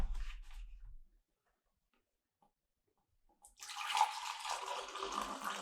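A brief low thump is followed by silence, then a steady hiss of hot water pouring over coffee for a pourover begins and continues, close and moderately loud.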